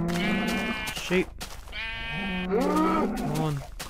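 Minecraft sheep bleat several times in a row, loud and close, with the wavering calls overlapping and no talk in between.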